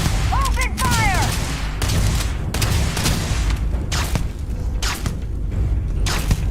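Video game gunfire crackles in dense, continuous bursts, with a streamer's voice talking over it throughout.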